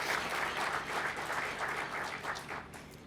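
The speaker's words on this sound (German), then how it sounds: "das ist ein Applaus wert." Audience at a mosque foundation stone ceremony in Nordhorn, Germany, gives a sustained round of applause, dense clapping at moderate volume that tapers slightly toward the end.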